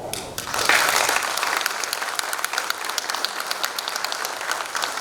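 Audience applause rings out through a morning speech event on Peru's micro and small businesses, dense steady clapping from a crowd that swells quickly and holds loud and even for several seconds.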